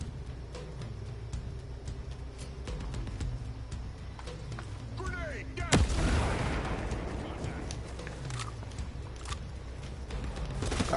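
Grenade blast in the video game Ghost Recon Breakpoint: one loud boom with a rumbling tail that stands out from a steady bed of game noise and scattered clicks.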